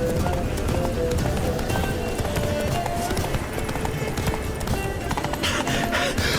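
Roach the horse gallops in The Witcher 3: Blood and Wine, with a steady, rapid clip-clop of hooves running throughout, close and loud, layered over busy game music and ambience.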